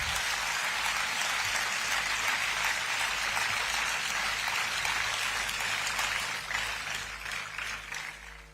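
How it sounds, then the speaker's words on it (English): A large audience at a university convocation applauds the awardees and their parents with sustained, dense clapping that fades gradually toward the end, sounding like a steady wash. "a big round of applause for the awardees and their parents"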